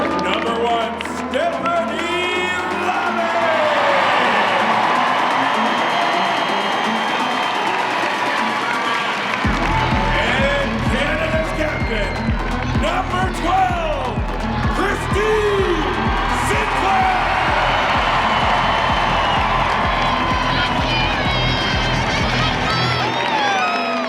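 Large stadium crowd cheers and whoops as Canada's Olympic champion women's soccer players are introduced one by one, a sustained roar over a booming low music beat that kicks in partway through.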